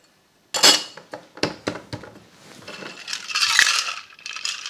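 Ice cubes rattle and clink inside a metal cocktail shaker, starting with sharp separate knocks and building into a dense, loud, continuous shaking rattle, close up with no talk.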